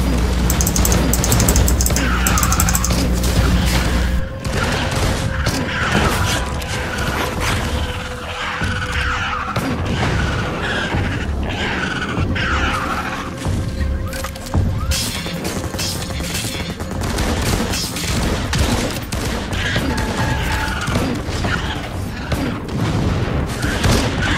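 A thumper drilling machine in Firefall thuds and booms continuously with heavy rumbling, crashing impacts and mechanical grinding, loud and close throughout.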